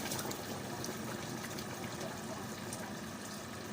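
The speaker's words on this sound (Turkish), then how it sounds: "Sıcak suyu döküyorum içine." Hot water poured over drained green beans in a kitchen, a steady continuous splashing gush that fills the whole stretch at a moderate level with no talk.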